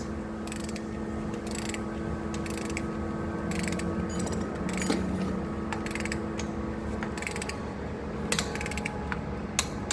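A wrench tightens the bolts of a safety roof anchor to torque, producing intermittent ratcheting clicks and short mechanical bursts under constant outdoor background noise, with no speech.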